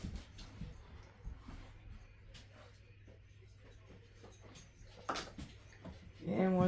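A puppy whimpers and yips indoors, faint and intermittent, with a sharper cry near the end and quiet shuffling in the room.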